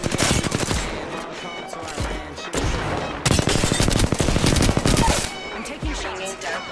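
Rapid automatic gunfire from the Apex Legends video game rattles in dense, loud bursts with brief gaps, sustained over several seconds like a mix of machine-gun fire and volleys.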